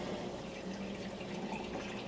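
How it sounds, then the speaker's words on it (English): Air bubbles gurgle and burble steadily through an aquaponics siphon aeration tube, a faint continuous watery bubbling close by. "I open it up, the bubbles start again"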